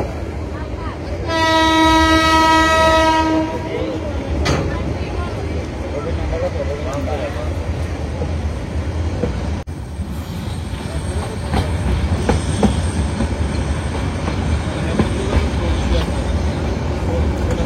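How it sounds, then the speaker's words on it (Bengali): Titas commuter train running over loop line points on a curve at Amirganj, a loud steady rumble of wheels on rail throughout, with a long horn blast early on and sharp clanks as the wheels cross the points. "আমাদের ট্রেনটি এখন আমিরগঞ্জের যে লুপ লাইন, সেই লুপ লাইনের পয়েন্টটি অতিক্রম করছে"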